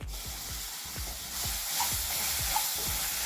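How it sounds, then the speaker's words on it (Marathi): Melon seeds are stirred into caramelized sugar in a pan for chikki, with a steady sizzle and hiss under rhythmic scraping strokes about every third of a second, close and moderately quiet. "व्यवस्थित मिक्स करून घ्यायचं आहे।"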